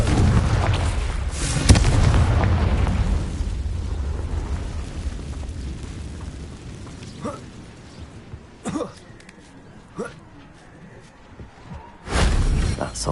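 A Confringo blasting spell goes off in Hogwarts Legacy with a loud booming burst, its rumble decaying over several seconds, followed by scattered smaller impacts and another heavy blast near the end.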